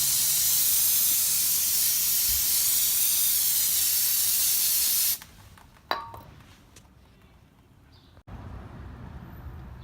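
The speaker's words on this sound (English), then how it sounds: "we'll just spray some brake cleaner here just to clean some of the parts." A loud, steady hiss of brake cleaner sprayed on rear disc brake parts of a 2006-2011 Honda Civic Si runs for about five seconds, then cuts off, followed by a sharp metallic clink and quieter shuffling.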